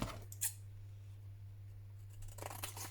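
Scissors snip the corners off a sheet of card while shaping a small handmade envelope, two crisp cuts near the start and a longer rustling trim at the end, close and quiet over a steady low hum.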